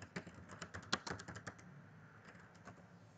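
Quiet typing on a computer keyboard, a quick run of light clicking keystrokes that stops partway, then a few scattered taps, with no talking.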